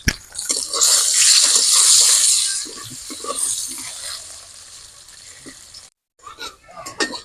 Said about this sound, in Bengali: শুধু অল্প একটু হলুদ গুঁড়ো দিয়ে আলুগুলোকে ভেজে নেব